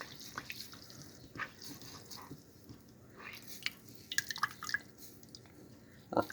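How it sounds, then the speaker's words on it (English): Water drips and trickles from a wrung-out Traxxas foam air filter, with scattered irregular droplets and small splashes landing close by over several seconds. "Try to wring out most of the water."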